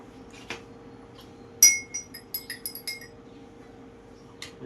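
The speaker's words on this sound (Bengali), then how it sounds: "এক চা চামচ লেবুর রস দেবেন আর এক চিমটি লবণ মিক্সচার করে দেবেন" A metal spoon clinks against a glass while stirring lemon juice and a pinch of salt into a drink, with one early tap and then a quick cluster of bright ringing clinks, closely miked and otherwise quiet.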